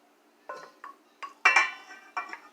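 Baked ziti being stirred in a Dutch oven, a few separate clinks and scrapes of a utensil against the pot, close and fairly quiet, with short pauses between strokes.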